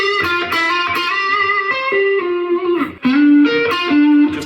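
Electric guitar with slight overdrive, delay and reverb plays basic licks and arpeggio-like phrases, bright sustained notes ringing one after another with a brief dip near the end, alone and up close.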